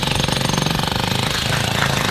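Loud, close jackhammer pounding rapidly and continuously as it breaks through a barangay road to open drainage, its rattling strikes running without pause.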